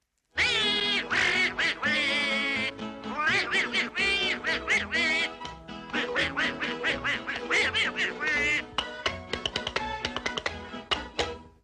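Donald Duck's raspy cartoon quacking voice from the Disney animated short The Wise Little Hen runs as a long string of loud, close, garbled quacks in rapid bursts, alone without other talk.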